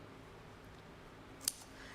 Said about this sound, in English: I've got my scissors. And snip. And snip.